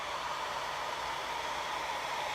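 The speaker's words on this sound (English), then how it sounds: "you want to use your hair dryer like I'm doing" A hair dryer blows steadily and close, a constant whooshing hum with no break.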